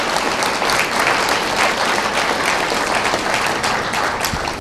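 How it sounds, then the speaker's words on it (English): A crowd gives a round of applause for eighth graders at a Louisiana Students of the Year ceremony. The clapping is loud and dense, running steadily for several seconds before tapering at the end. "I think we need another round of applause for the 8th graders"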